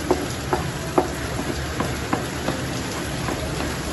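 Onions wilting in a hot pan for a chicken liver dish, a steady soft sizzle with faint occasional ticks and stirring clicks, no voices.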